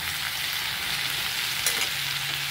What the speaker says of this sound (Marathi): छानपैकी आता हे मीठ कारलं परतून घेऊया आपण मसाल्यामध्ये असं.